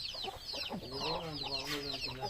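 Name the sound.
chickens clucking on a farm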